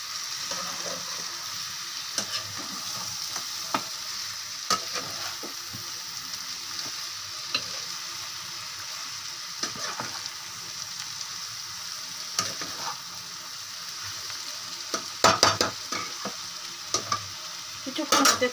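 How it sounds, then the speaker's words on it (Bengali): Spices frying in oil in a pan for a chicken, rice and lentil dish, a steady sizzle under repeated scraping and clinking stirs at close range, growing busier near the end. "সব মশলাগুলোকে মিশিয়ে দিয়েছি।"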